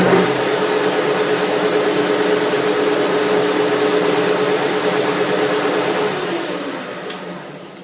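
Metal lathe running at 640 RPM, heard as a steady, loud motor whine with a constant tonal hum that begins to fade and wind down near the end.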